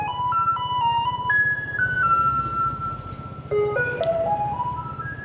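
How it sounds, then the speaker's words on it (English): A Taiwanese garbage truck plays its cheery electronic tune, a bright, steady melody of clear beeping tones carried over a low engine rumble from fairly close by. "And here comes the garbage truck. And the garbage truck plays this cheery little tune."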